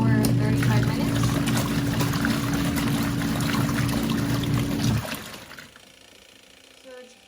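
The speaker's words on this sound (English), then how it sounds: "it does make noise, since it said it was not noisy at all. And then it just starts spinning for 35 minutes." A small portable washing machine whirs and hums loudly while spinning, with a watery sloshing texture, then the drone cuts off abruptly and the room goes quiet.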